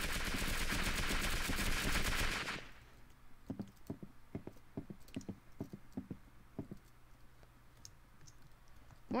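Call of Duty gunfire: a loud, dense burst of rapid automatic shots at first, then a steady run of sharp, separate single shots and clicks, with no talking.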